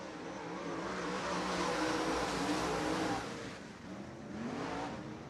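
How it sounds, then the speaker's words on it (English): Modified race cars accelerate at a restart on a racing oval, engines rising into a loud, rough roar for a few seconds, then dipping and swelling again as the field passes. "Into the restart zone they come, and Bernhardt now accelerates."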